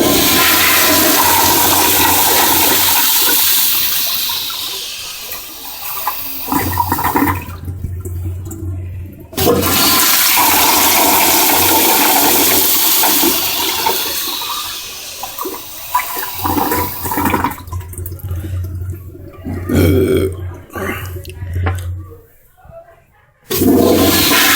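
A 1986 to 1993 American Standard Afwall urinal in a medical school restroom flushes with a loud rushing torrent of water that surges, gurgles and tapers off, repeating twice with quieter refill trickling between.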